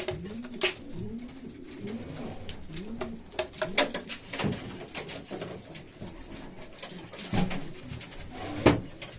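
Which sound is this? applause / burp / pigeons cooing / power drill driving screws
pigeons cooing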